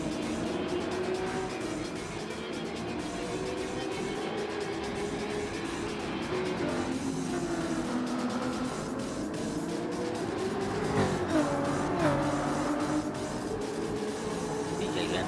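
Ferrari and Jaguar GR3 race cars in a racing video game drone along steadily, with sustained engine roar and the pitch shifting as they pass. Faint tire noise comes through.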